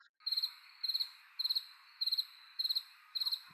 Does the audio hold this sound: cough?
no